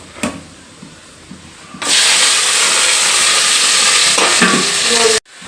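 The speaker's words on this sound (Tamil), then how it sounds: "இப்போ தாளிச்சுக்கிறோம்." Vegetables for aviyal dropped into a hot pan for tempering, bursting into a loud, sustained sizzle after a quiet start, with stirring noises throughout, then cutting off abruptly at the end.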